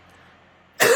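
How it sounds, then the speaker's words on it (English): A single abrupt cough from a person with post-nasal drip bursts out near the end after near silence, close and loud. "I think the reason I'm coughing is this post-nasal drip."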